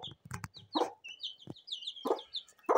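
Hen clucking with her five chicks, low soft clucks interspersed with many high thin peeping chirps from the chicks, close and fairly quiet.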